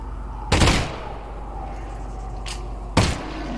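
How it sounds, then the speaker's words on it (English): Two sharp, loud gunshots in Half-Life: Alyx, spaced about two and a half seconds apart and fired at a barnacle, each with a short ringing tail over a steady low hum. "So 3 or 4 shots to take down the barnacle"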